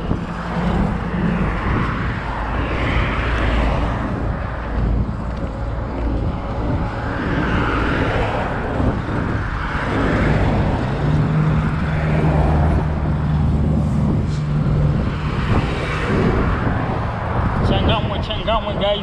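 Heavy trucks and road traffic rumble past continuously on a busy, newly developed road in Changamwe, Mombasa, a steady loud low drone with passing vehicles swelling and fading, heard while walking alongside, with a voice talking intermittently.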